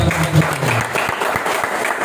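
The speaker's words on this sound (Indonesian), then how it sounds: "tepuk tangan dulu lah" Brief, full applause from a seminar audience at an anti-usury community event, loud and close, with a voice briefly audible at the start.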